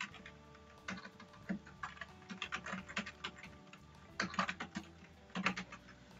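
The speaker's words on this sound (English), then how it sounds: "Then I type simple company name here." Quiet close-up typing on a computer keyboard as a company name is entered, with clustered key clicks in short irregular bursts and brief pauses between them.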